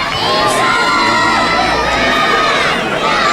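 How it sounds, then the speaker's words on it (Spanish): A large crowd at an Olympic Games ceremony cheers and shouts loudly, a continuous dense roar with high excited voices rising throughout. "Fuerte aplauso para Estados Unidos, impresionante"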